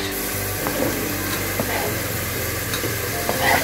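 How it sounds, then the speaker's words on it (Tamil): Onions fry with chopped tomato, coriander and mint in a pan, giving a dense, steady sizzle with a low hum beneath and intermittent light stirring clicks. "சேர்த்து நல்லா வதக்கிக்கோங்க"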